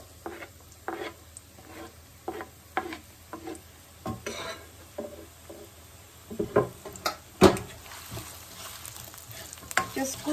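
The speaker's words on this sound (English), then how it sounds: "I've got here onion and garlic. I'm going to add that." Chopped onion and garlic sizzle steadily in a hot pan while a utensil stirs and scrapes them, with irregular clattering strokes that grow louder and busier toward the end, heard close up with no talk.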